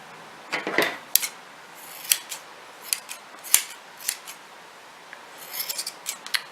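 Scissors trimming yarn pom-poms, a close series of crisp irregular snips with soft rustling of yarn between cuts, quiet and without talking.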